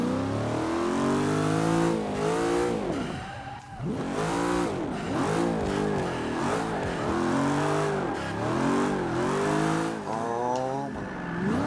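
A Camaro Z28, upgraded and tuned, drifts in Forza Motorsport 5. Its engine revs loud and close, climbing and dropping in repeated swells, and tire squeal rides over the engine note.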